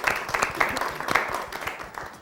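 An audience at a cricket T20 World Cup special broadcast breaks into brief, dense applause, many hands clapping close together and fairly loud.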